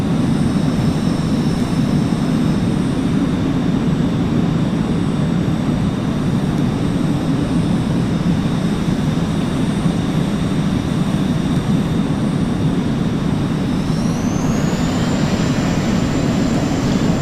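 An Aerosoft F-16 Falcon jet in Flight Simulator X gives off a loud, continuous engine roar with a steady high whine, the pitch rising near the end as the throttle changes.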